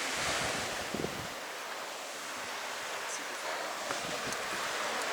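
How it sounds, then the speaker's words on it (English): Ocean surf washing ashore at low tide on the coast of Vancouver Island, a steady broad roar of waves with wind buffeting the microphone throughout. "Generally the ocean is right up here, but it's a really nice low tide this evening"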